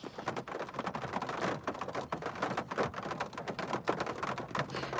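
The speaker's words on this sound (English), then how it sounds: "when it's raining, and it's starting to rain again" Steady rain pouring down outside, a dense continuous patter of drops with no voices over it.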